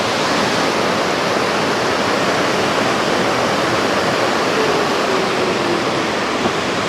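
A large river in a forest flows steadily with a loud, continuous broadband rush of water, unbroken and even throughout, with no voices.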